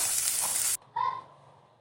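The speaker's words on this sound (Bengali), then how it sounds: "এখন সবিনগুলোকে ভেজে নিব" Soybeans frying in a pan for a Bengali soybean bharta, giving a loud, close sizzling hiss that cuts off abruptly after a moment and leaves a softer, fading frying sound.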